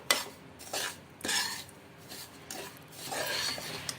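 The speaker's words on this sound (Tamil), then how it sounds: "நம்ம ரவை எப்படி வறுப்போமோ அதே அளவுக்கு நம்ம இந்த அவலையும் வறுத்துக்கணும்" Flattened rice (aval) being dry roasted in a pan for aval kesari, with a spatula giving a series of soft, rasping scrapes in uneven strokes, close and fairly quiet, with no voices.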